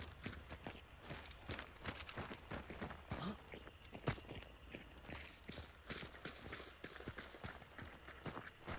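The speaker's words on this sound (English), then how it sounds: "I heard him, his footsteps on the dirt" Footsteps crunch on dirt in the Hunt: Showdown video game, a quiet, steady stream of treads under faint game ambience with no voices.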